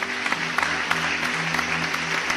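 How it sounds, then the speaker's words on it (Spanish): Loud congregational applause in a church service, sustained dense clapping with a few sharp individual claps standing out, while a low musical tone hums underneath. "Un aplauso fuerte al Señor"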